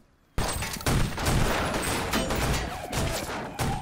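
Gunfire from the TV series The Walking Dead erupts after a brief quiet, a loud, dense fusillade of overlapping shots and cracks that keeps rattling on with fresh bursts.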